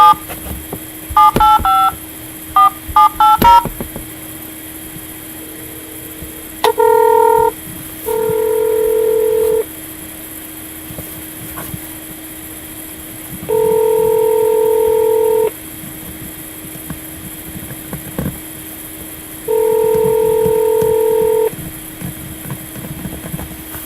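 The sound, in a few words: telephone dialing tones, calling Illinois Attorney General office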